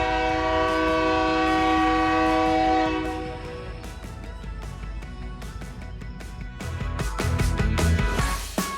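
A loud train horn blares for a few seconds, then the rumble and rhythmic clatter of rail cars rolling past close by.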